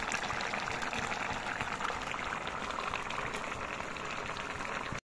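Bottle gourd and fish curry boils in a cooker with a steady, continuous bubbling hiss that keeps an even level throughout before stopping abruptly.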